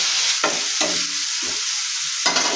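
Vegetables with chopped chilies sizzle loudly as they are lightly fried in a pan while a spatula scrapes through them in four distinct stirring strokes, close up and without voices.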